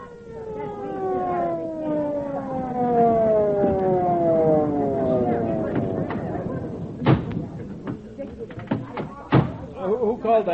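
An ambulance siren winds down in a falling, wailing sweep over several seconds. Loud thuds and knocks follow as it fades.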